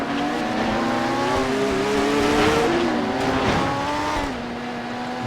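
Race cars in the racing video game Total Immersion Racing, including McLaren F1 GTRs, roar continuously with engine pitch rising and falling through gear changes and brief tire squeal, loud and close throughout.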